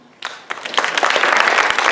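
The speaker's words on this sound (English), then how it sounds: "If you would all please join me in a round of applause thanking the candidates who are here tonight." Audience applause at a GOP state school superintendent candidates' closing event, starting sparse and swelling into steady, full clapping from a room of people.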